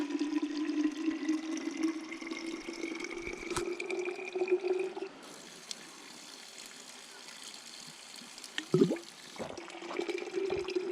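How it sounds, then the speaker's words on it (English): Water from a natural mineral spring runs and gurgles steadily nearby on a trail in Ihlara Valley, Turkey, a continuous trickling flow with a few louder splashes and handling noises partway through. "Here it is, a natural spring."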